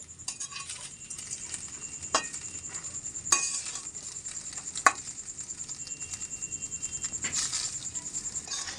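A spatula or spoon mixes garam masala and black pepper powder into fried rice in a pan, giving sparse metallic clinks and taps over a faint background hiss, with no talking.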